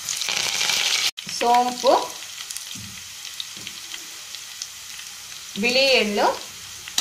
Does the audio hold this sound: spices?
yes